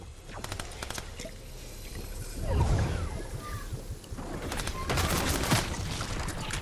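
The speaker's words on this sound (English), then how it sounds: "Oh, somebody's shooting at me, dude." Faint, distant rapid gunfire in a video game, scattered crackling shots in two loose clusters over a low, busy background rumble.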